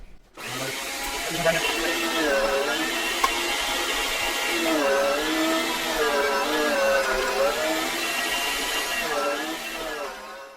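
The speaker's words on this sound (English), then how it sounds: "I'm going to get to grinding here" A meat grinder runs steadily while grinding Italian sausage meat, a loud continuous motor whine and churn with a shifting pitch that lasts about ten seconds up close.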